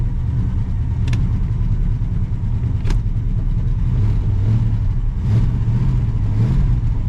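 A 1966 Pontiac Grand Prix barn find with a freshly freed brake pedal runs steadily nearby, its engine droning and rising slightly in pitch as it strains to move without gears, with a couple of sharp clicks early on.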